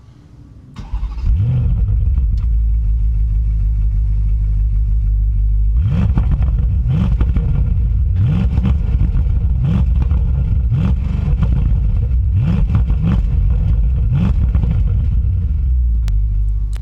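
A 2024 Bentley Continental GT Azure coupe's engine cranks and catches with a loud rumbling start, then idles steadily before a series of about eight sharp, evenly spaced revs rise and fall in park, loud and close with no talk.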